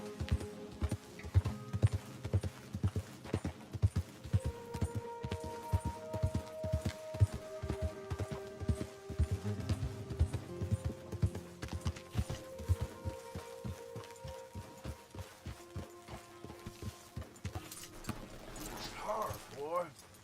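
Horse hooves clip-clopping in the Red Dead Redemption 2 video game, a steady run of close, sharp hoofbeats on firm ground with game music and ambience beneath and a voice talking over much of it.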